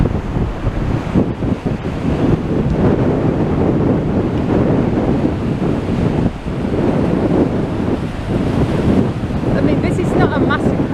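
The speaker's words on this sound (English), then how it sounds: "it is super rough and raging if you look at the waves" Rough, raging sea surges at high tide on the Blackpool seafront, loud churning waves mixed with heavy wind buffeting the microphone, continuous and close.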